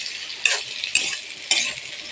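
Eggplant, string beans and bitter gourd are stirred in a hot pan, giving a steady close sizzle with three sharp scraping strokes spaced evenly about half a second apart.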